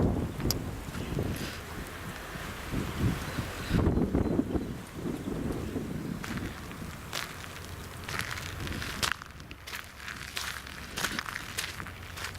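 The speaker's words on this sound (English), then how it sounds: "If that wind would drop, it'd actually be quite pleasant." Wind blowing outdoors in the New Forest, a steady rushing buffet against the microphone with gusts swelling and easing, alone and fairly loud throughout.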